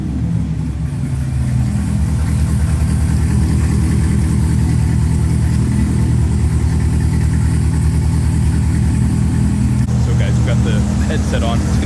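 Corvette Z06 with intake, E85 fuel system and methanol tank, running on a dyno; a loud, steady engine drone holds throughout with little change in pitch, sounding more like a sustained hold than sharp revving, with faint talk mixed in.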